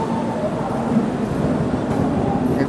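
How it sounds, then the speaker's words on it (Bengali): The Coromandel Express pulls out of Howrah station with a steady low rumble and rolling rattle of the carriages, heard from aboard, even in level with no clear speech. "আমাদের ট্রেন হাওড়া থেকে ছাড়লো"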